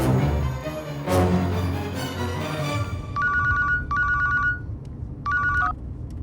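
A telephone rings in three separate bursts of bright electronic trilling, each lasting under a second, following a stretch of dense indoor background sound with no voices.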